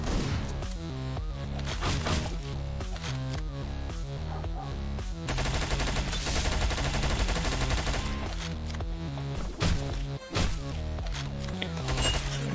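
Rapid, repeated gunshots from the top-down action game Hotline Miami 2: Midnight Animal pound steadily over a driving music track, loud and close, with a brief gap near the end.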